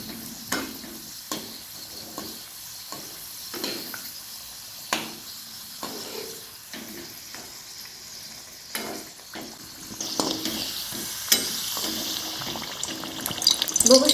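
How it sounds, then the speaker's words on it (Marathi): Kachori deep-frying in hot oil while being turned, a steady soft sizzle broken by occasional stirring and scraping sounds, with the bubbling growing busier toward the end. "असे दोन्हीकडून पलटून छान अशी लालसर तळून घ्यायचं आहे आपल्याला कचोरी"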